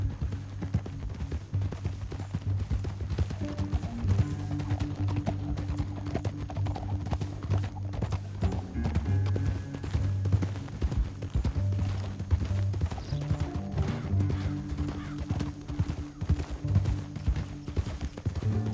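Steady rhythmic clip-clop of horse hooves in Red Dead Redemption 2 over a continuous low rumble, the trotting persisting throughout without voices.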